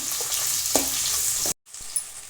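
Large onions and garlic frying in a pan for a bitter gourd stir-fry, a steady close sizzle with a brief scrape partway through and a short break before the sizzle resumes.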